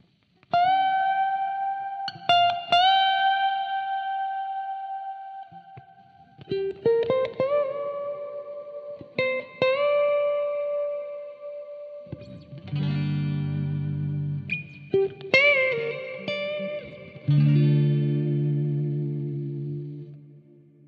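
An electric guitar with a plex delay effect plays sparse sustained notes and chords with a chorus-like shimmer, echoing repeats and a lingering reverb tail, with no voices.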